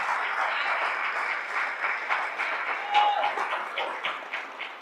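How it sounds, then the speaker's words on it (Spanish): A church congregation claps together during a sermon, a dense, steady applause that holds at an even level for about five seconds with no pause. "dile un aplauso al Señor ahora"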